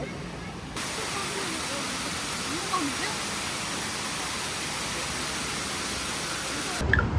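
Steady broadband rush of falling water fills the whole stretch, a constant hiss-like roar with faint voices barely surfacing beneath it.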